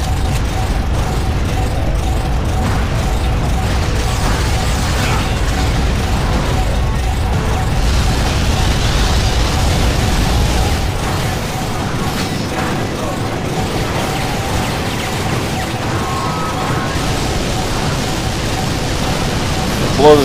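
Explosions blowing up a gun emplacement in the Vanquish shooter, a dense, loud, rumbling roar of blasts and debris that stays heavy throughout with a sharp hit right at the end.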